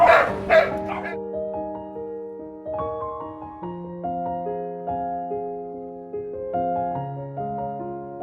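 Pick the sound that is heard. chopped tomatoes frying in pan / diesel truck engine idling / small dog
small dog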